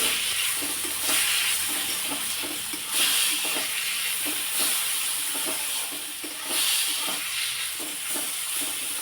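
Chopped tomatoes sauté in a pan for a spiced eggplant curry, giving a steady close sizzle and hiss with soft bursts of stirring that swell every few seconds, no voices.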